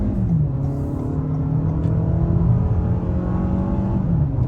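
A 2023 Toyota Camry LE accelerates at half throttle on a two-lane highway, its engine drone rising steadily and heard from inside the cabin, with no talking.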